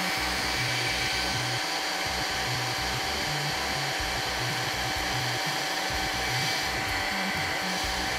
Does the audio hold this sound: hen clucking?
no